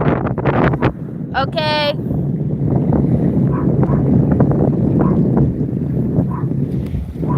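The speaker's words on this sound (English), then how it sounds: "It's very windy." Strong wind roars steadily across the microphone on a boat anchored off Fiji, a constant heavy buffeting through the whole stretch, with a brief whistle-like tone early on and someone speaking briefly over it.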